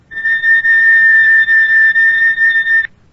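A piercing, high 4000 Hz electronic oscillator tone sounds steadily for nearly three seconds with slight fluttering dips in level, then stops sharply.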